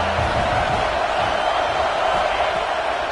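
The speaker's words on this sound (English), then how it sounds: "The Buckeye crowd alive on 3rd down." Ohio State Buckeye stadium crowd roars on third down at a college football game, a loud, dense, sustained wall of distant cheering filling the whole stretch.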